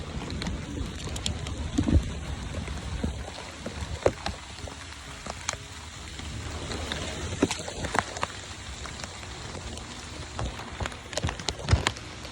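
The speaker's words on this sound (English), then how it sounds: "It's raining" Rain falls outdoors at a tiny house build site, a soft steady patter with scattered sharper drips and taps landing on nearby surfaces, heard alone without speech.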